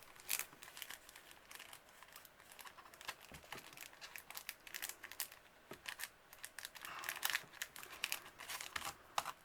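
A photocard slides and catches in staticky plastic binder sleeves, making faint, close crinkling and rustling in uneven bursts, quiet and with no talking.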